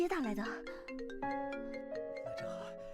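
A phone ringtone plays a bright, stepped electronic melody of sustained tones, following a brief voice at the very start, moderately loud and close.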